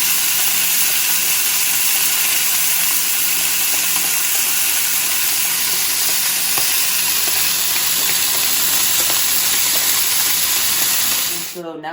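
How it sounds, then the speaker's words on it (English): Steak sears in a hot pan with a loud, steady sizzle and hiss that runs unbroken for about eleven seconds, then cuts off abruptly at the end. "Get it right here, right in the middle of the pan so you can get a good sear."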